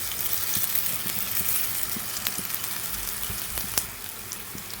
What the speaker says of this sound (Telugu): ఇప్పుడు ఇందులోకి ఉప్పు, కారం కలిపి పెట్టుకున్నాం కదా బంగాళదుంప ముక్కలన్నీ వేసేసుకోవాలి